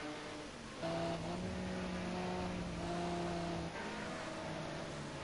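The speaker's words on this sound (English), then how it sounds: "Have the tyres already gone on that Ford Sierra Cosworth because the back end is looking about as" A Ford Sierra Cosworth race car's engine drones steadily at a distance on the Oschersleben circuit during a Group A race, a faint continuous tone that rises slightly in pitch, with no speech.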